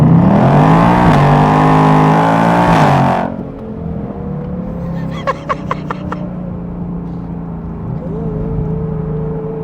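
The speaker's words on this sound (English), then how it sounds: "I mean, listen to that exhaust." A 2024 Ford Mustang GT V8 exhaust roars loudly under hard acceleration, climbing in pitch for about three seconds before cutting off, then settling into a lower, steady drone with a few sharp clicks and pops.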